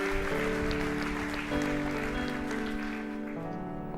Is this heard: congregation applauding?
yes